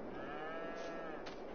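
A cow in a dairy barn in the video game Farming Simulator 22 gives a single, fairly quiet, drawn-out moo over low background hum.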